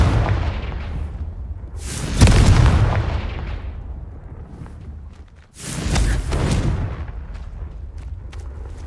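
A Confringo fire spell bursts in Hogwarts Legacy with a loud booming blast, followed by a rumbling decay and then a second heavy explosion a few seconds later, with no talk over it.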